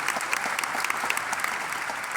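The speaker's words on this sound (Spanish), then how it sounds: "Ahora, dense el aplauso a ustedes mismos." A church congregation claps continuously, a dense, even wash of applause from a large crowd indoors that holds steady throughout.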